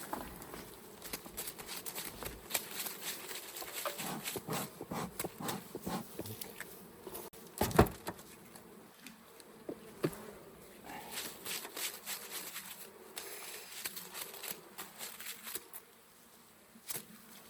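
Honey bees buzz densely around hives at a mobile apiary on wheels, moved to acacia bloom, a constant near swarm drone with scattered light taps and bumps and no talk.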